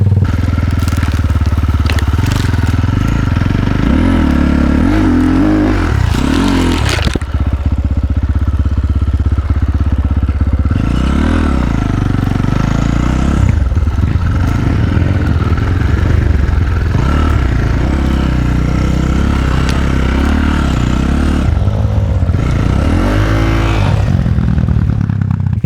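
An Avantis 300 dirt bike ridden through a forest, its engine loud and close throughout, revving up and down in repeated surges with rough clattering from the trail.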